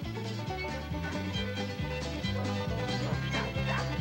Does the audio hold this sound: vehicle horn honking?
no